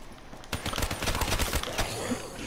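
Rapid automatic bursts from the Man of War rifle in the zombies mode of Call of Duty: Black Ops 3, a dense run of close, loud shots beginning after a brief quiet moment and continuing without talk.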